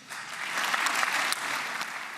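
Applause fills a parliamentary chamber at Israel's Knesset, dense, steady clapping from many hands that swells quickly and holds at full strength, close and bright.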